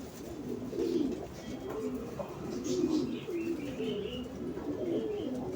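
Pigeons cooing in a loft among young birds kept for sale, a steady low murmur of overlapping coos and some faint chirps running through the whole stretch, moderately close.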